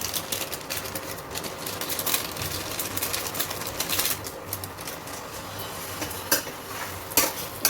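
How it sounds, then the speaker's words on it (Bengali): Amla pickle being stirred with chaat masala and spices, a steady scraping and clinking of a spoon against the container with brief louder knocks, close up and without talk. "নাড়াচাড়া করে নিই।"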